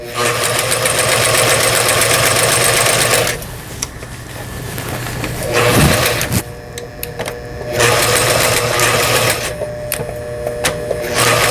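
A Brother GA15 sewing machine, under repair testing, runs in loud, close bursts, its motor whirring and needle clattering, pausing briefly and starting again.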